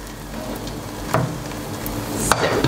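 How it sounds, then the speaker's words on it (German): Crepe batter spread thin in a hot frying pan sizzles with a steady, close crackling hiss and a few louder pops. "Und jetzt kann er erstmal hier ein bisschen brutzeln."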